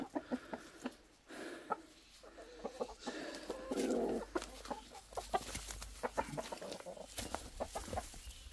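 Several chickens cluck in short, irregular bursts at close range, with occasional louder calls over a rustling coop background.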